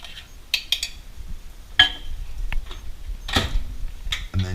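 A spoon clinks and scrapes in a bowl, mixing cooked egg whites into oatmeal, with a few sharp tapping clicks scattered over a soft background.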